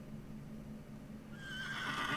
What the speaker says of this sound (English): Why is there a horse?